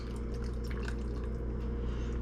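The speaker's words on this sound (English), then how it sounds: "we're going to take this Italian dressing, get that cap off there, and we're going to pour it all over our chicken" Italian dressing poured from a bottle over chicken in a bag, giving a continuous close liquid glugging and dripping with wet splashes over a low steady background hum.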